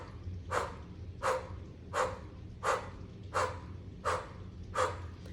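Rapid breath of fire exhaled through an O-shaped mouth in a self-care breathing routine: seven short, sharp, airy puffs at a steady rhythm, close and fairly soft, with no talking.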